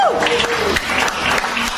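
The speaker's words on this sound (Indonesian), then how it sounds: "tepuk tangan buat Tuhan Yesus" A crowd at a religious gathering claps in a short, dense burst of applause, loud and close, with a voice speaking faintly underneath.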